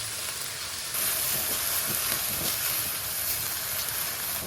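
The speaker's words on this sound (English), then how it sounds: "Sauté for 6 to 7 minutes." Spicy chicken filling with red chili flakes, salt and white vinegar sautés in a pan, giving a steady, close frying sizzle with a faint stirring texture throughout.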